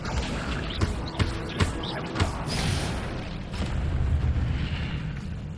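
A Hogwarts Legacy video game fire spell sets off a series of booming blasts, with several sharp thumps over the first two seconds before a rumbling roar that swells toward the end.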